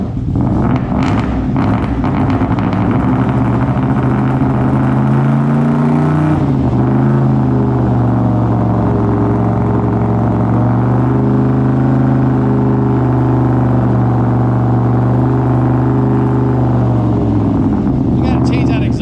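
A 2003 Ford Mustang Terminator Cobra with a Coyote ECU revs loudly through its exhaust, rising in repeated pulls then settling into a lumpy, choppy idle, with people talking over it at times.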